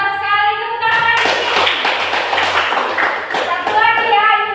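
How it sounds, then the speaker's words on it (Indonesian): Children in a classroom clap together in a loud, dense burst lasting several seconds, with a voice and an adult voice audible around the applause. "tepuk tangan lagi"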